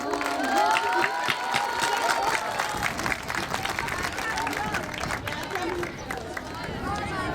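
A school graduation ceremony crowd applauds continuously, a dense wash of many hands clapping with some cheering, sustained at a steady level.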